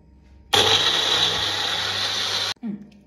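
A kitchen blender whirs loudly and steadily for about two seconds, blending watermelon for a milkshake, then cuts off abruptly, followed by a few faint clinks.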